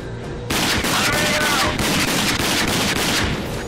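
Loud, continuous automatic gunfire hitting enemies in the video game Rage, starting abruptly after a short quiet moment and holding steady to the end.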